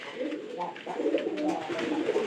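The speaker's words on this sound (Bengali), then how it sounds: "আমাদের যতগুলো কবুতর আছে" Domestic pigeons coo in soft, throaty rolling phrases close by, several birds overlapping in a steady murmur through the whole stretch.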